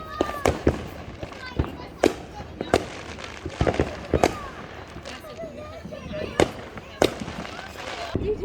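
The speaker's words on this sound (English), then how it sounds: "Look at the fireworks." Fireworks burst repeatedly during a Fourth of July celebration, sharp booms and crackling pops arriving at irregular intervals, some close and loud, others fainter, while people talk and children chatter throughout.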